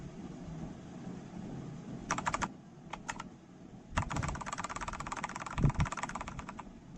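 Typing on a computer keyboard, with bursts of quick, close key taps over a steady fan-like hum: a short flurry, a few isolated presses, then a longer run of rapid keystrokes.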